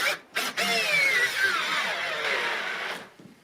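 A power drill running 5/16-inch lag bolts in for a TV wall mount makes one sustained, loud whining run with pitch sweeps. Short bursts come just before it, and it cuts off near the end.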